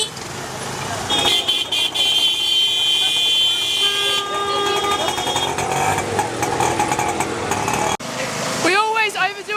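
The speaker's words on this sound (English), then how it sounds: "It is packed, it's intense, it's loud, the people tooting you, people nudging you with their cars." Chaotic, packed city street at night with dense traffic: car and scooter engines rumbling, repeated short horn toots and honks, and a rising siren-like wail near the end, all loud and close with crowd noise mixed in.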